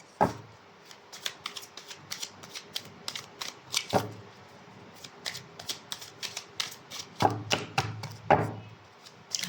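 Oracle cards being shuffled by hand in a tarot-style reading, a rapid run of crisp riffling snaps and flutters in uneven bursts, close and fairly quiet, with no voices.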